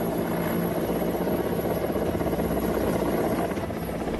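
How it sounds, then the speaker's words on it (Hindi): An Indian Air Force Mi-17 helicopter arrives for a flood rescue, its rotor and engine making a loud, steady, close throbbing drone that continues unbroken throughout with no voices. "एयरफोर्स का हेलीकॉप्टर MI-17 रेस्क्यू के लिए मौके पर पहुंच गया"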